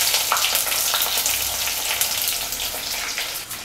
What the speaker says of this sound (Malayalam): ഇനി നമ്മൾ മുറിച്ച് വെച്ചിരിക്കുന്ന ചെറിയ ഉള്ളി ഇട്ട് കൊടുക്കാം.